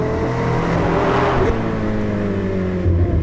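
A 2021 McLaren 765LT exhaust on a test drive: a loud, close engine note climbs through rising revs, breaks briefly at a shift, then pulls on again with strong, steady harmonics.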